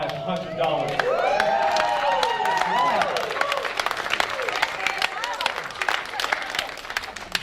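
An audience at a student entrepreneur awards event claps steadily for a winner, the applause running throughout while a voice carries over the top.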